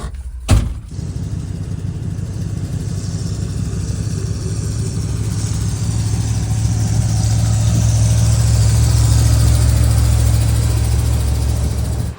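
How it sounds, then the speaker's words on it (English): A Brazilian Ford diesel fuel truck that carries avgas runs loud and steady after a sharp thump at the start, its deep, even diesel drone building slightly toward the end. "Here comes our Brazilian Ford diesel avgas truck, running like an absolute dream."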